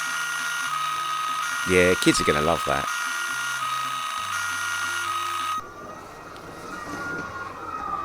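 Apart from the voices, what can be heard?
toy siren of Scalextric BMW police slot car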